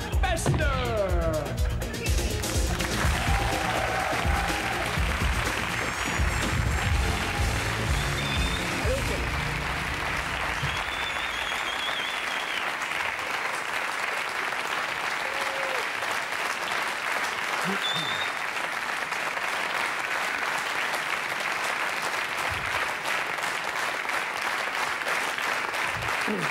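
Long, loud studio audience applause on a 1995 German TV comedy show, starting over music and a voice, then continuing as sustained clapping with occasional cheers.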